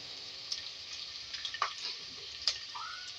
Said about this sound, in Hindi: अदरक लहसुन का पेस्ट 1 खाने का चमचा, इसको फ्राई करेंगे